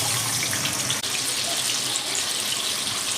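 Cut potatoes drop into hot salted oil in a home kitchen and fry with a loud, continuous hiss and crackle that stays close and even throughout.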